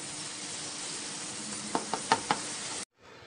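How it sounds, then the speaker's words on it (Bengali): Chopped onions frying in oil with a little salt for a Bengali rui fish curry: a soft, steady sizzle, then four sharp knocks of a utensil against the pan before the sound cuts off. "লবণ দিয়ে পেঁয়াজ লাল করে ভেজে নিচ্ছি"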